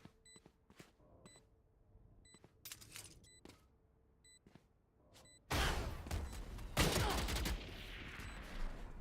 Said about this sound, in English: I hear a rocket launcher